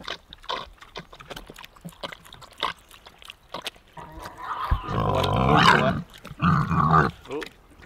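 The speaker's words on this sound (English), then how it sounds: "So you'll have to excuse the noises, but they're pigs." Pigs crowding a temporary nipple waterer fed by garden hose: grunts, snorts and squealing scuffles, with a louder stretch of squeals and grunts in the middle, close by outdoors.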